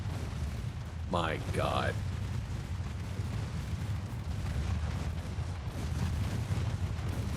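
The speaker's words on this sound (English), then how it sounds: "They're getting pelted by millions of small rounds." Naval gunfire from many small-calibre guns in Ultimate Admiral Dreadnoughts: a dense, continuous rumbling barrage of distant shots and impacts, with a man briefly exclaiming over it.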